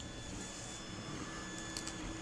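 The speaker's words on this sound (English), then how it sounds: "I can hear you making mistakes, printer." A 3D printer running a print, a faint, steady mechanical hum with a thin whine and a few light clicks, low in level and without speech.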